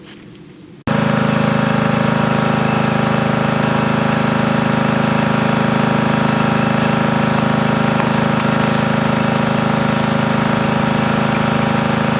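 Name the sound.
lawn mower engine running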